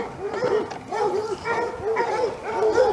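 Several excited dogs bark in a steady, rapid series of loud, close, yelping barks, one after another throughout.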